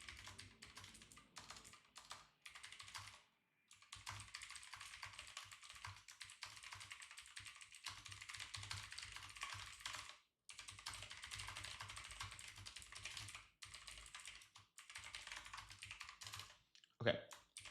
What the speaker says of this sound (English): Let me start typing up a little bit of a game plan here.